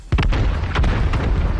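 Explosions boom through a large 50-versus-50 siege battle in the game New World, several heavy, close blasts stacked in quick succession over a dense, rumbling wash of battle noise.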